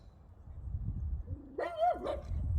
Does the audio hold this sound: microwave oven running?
no